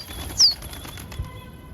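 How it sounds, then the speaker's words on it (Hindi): A single pigeon takes off with a short, close burst of flapping wings, followed by quiet outdoor background. "दोस्तों कबूतर उड़ा"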